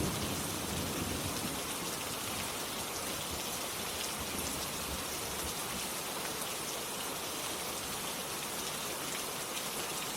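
Steady rain falls without pause, a dense, even hiss of drops pattering on surfaces, moderately quiet and unbroken, with no voices or other sounds.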